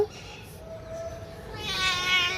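A cat meows once softly, a short rising and falling cry heard close by against a quiet room.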